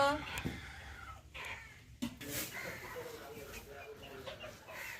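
A Tiger breed hen clucks in short, scattered calls at close range, set against background noise and a few sharper bursts.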